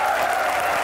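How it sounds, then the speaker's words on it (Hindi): Audience applause at a Hindi-language comedy show, dense and steady clapping filling the whole short moment without any voices over it. "आपकी भरपूर तालियों में मिफ्ताह इस्माइल।"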